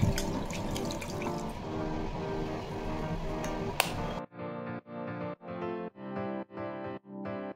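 A tap running into a sink for handwashing, a steady close splash of water that then breaks into a series of regular, evenly spaced gushes separated by short silences.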